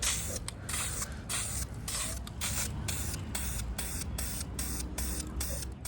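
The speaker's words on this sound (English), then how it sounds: "So we'll quickly paint this, and we'll get back inside." Aerosol spray paint applied to an intercooler part for a turbocharged Hyundai Getz outdoors: repeated short hissing bursts in an irregular rhythm, close and fairly loud, with brief gaps between passes.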